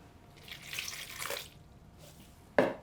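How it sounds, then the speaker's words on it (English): Warm water is poured into a bowl of flour and rubbed-in dried yeast for pizza dough, a soft pouring splash that swells and fades, followed by a sharp knock or clink. "And then some warm water"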